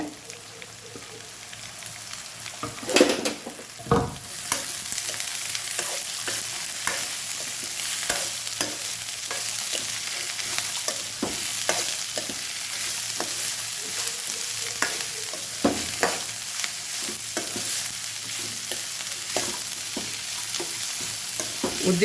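Chopped amaranth stems frying with onion in a pan crackle with a constant close sizzle, punctuated by repeated sharp scrapes and knocks of a spatula being stirred through.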